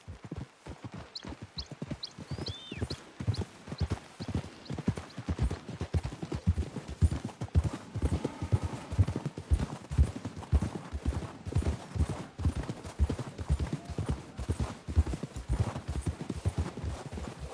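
Continuous clip-clop of several horses' hooves at a steady trot in Red Dead Redemption 2, fairly close, with a horse's whinny near the start.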